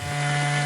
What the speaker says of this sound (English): The wood cutting post makes a nice sound. Chainsaw.